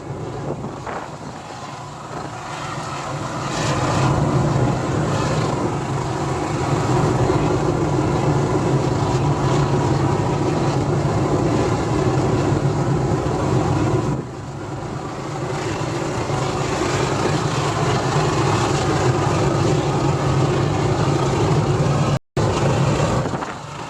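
A homemade oil-burner furnace melting aluminium car parts gives off a heavy, continuous roar that builds up early, briefly dips, then carries on steady and loud.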